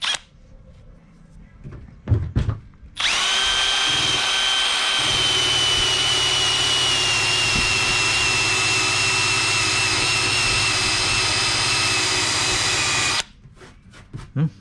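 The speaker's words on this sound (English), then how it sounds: "It's a 3M decal remover wheel." A 3M decal remover wheel on a power tool stripping stickers from a Yamaha 250 outboard motor cowling, a steady high whine with a grinding undertone lasting about ten seconds, bracketed by quieter handling noises.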